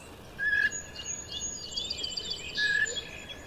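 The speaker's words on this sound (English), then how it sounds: "Oh, red-winged blackbird." Red-winged blackbird calling outdoors in a backyard, two short bright whistled notes standing out near the start and end over a soft trill and steady background hiss, moderately distant.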